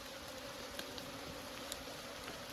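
A steady, dense buzzing of many honey bees at an open hive fills the clip, constant and close, with a few faint clicks over the hum and no talking.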